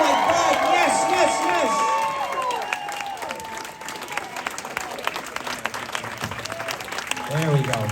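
A convention panel audience at a fan expo claps and cheers, with shouts and loud talk over dense applause at first, then thinner clapping under a voice and rising cheers again near the end.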